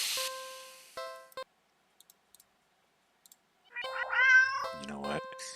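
A cat meows in a video game, a short, close, high mew arriving near the end after a quiet stretch with a few soft clicks and a faint tone.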